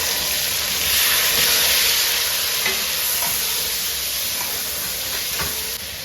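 Tomatoes tipped into hot oil with garlic-ginger paste for beef biryani, giving a steady loud sizzle and frying hiss throughout, with a few faint clicks of stirring and no talking.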